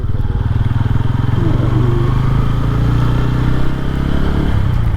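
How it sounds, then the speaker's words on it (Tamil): A motorcycle rides along near Manjalar dam, its engine droning steadily and close by with a throbbing low rumble that stays loud and unbroken throughout. "அப்படியே வண்டி எடுத்து கிளம்பியாச்சு"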